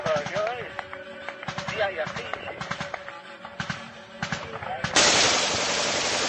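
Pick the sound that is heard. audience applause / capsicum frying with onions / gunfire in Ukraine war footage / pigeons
gunfire in Ukraine war footage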